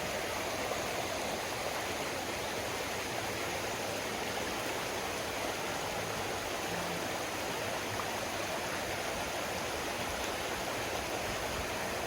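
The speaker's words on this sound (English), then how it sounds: "There's a little bit of a crossing, water crossing here." A stream at a water crossing on the Maunawili Falls trail in Hawaii rushes in a steady, dense wash of water noise, constant and unbroken with no speech.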